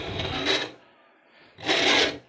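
A hand file rasps across a workpiece clamped in a vise, two strong forward strokes with a quieter, softer return pass between them, close and clear with no talk.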